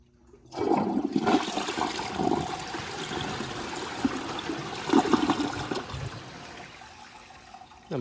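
A 2012 VitrA Evergreen toilet with a front flush lever is flushed: a sudden rush of water starts after a brief silence, churns strongly for several seconds, then fades to a trickle as the bowl refills.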